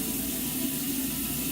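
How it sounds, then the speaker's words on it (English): Heavy rain pours steadily outside on a hot July day, a dense, continuous hiss and rush of water with no pauses, fairly close and loud, with no one speaking. "It just started raining out, pouring out."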